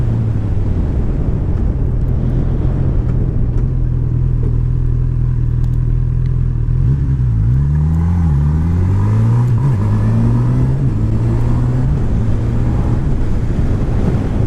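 Honda CB1000R four-cylinder motorcycle cruising in sixth gear: a smooth, steady engine hum under constant wind rush, with pitch shifting gently midway as the throttle changes, heard from the rider's position.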